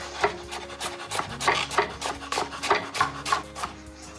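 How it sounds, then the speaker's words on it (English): A knife slices repeatedly through fennel on a cutting board, steady rhythmic cuts with a slight rasping edge, close by. "Before I finish chopping the fennel"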